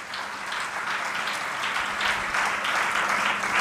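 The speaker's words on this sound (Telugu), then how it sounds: "అందరి కొరకు ఒకసారి చప్పట్లు కొడదాం." A church congregation at an anniversary service applauding together, a dense, even wash of many hands clapping that swells slightly toward the end.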